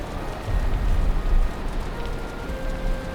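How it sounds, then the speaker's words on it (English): Steady rain falls in the Valheim game world, a dense, even patter with low rumbling underneath and a faint tonal hum running through. "even though it is raining"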